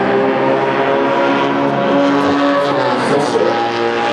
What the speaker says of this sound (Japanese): 今度はアコードが前に出てブレーキング競争ギリギリまで待っているのさすがはカストロール向けのアコード